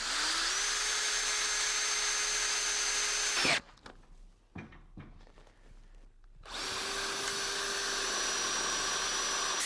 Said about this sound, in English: to screw this in place, basically what we've got, self-drilling screws